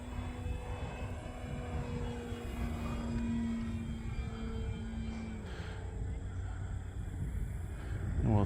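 A Pitts model aircraft's engine droning at half throttle as it flies downwind, a steady distant hum that shifts slightly in pitch and swells toward the end, heard without talk.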